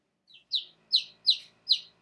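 Small pet birds give five quick, high chirps in a rapid, evenly spaced series, close and distinct against an otherwise quiet room.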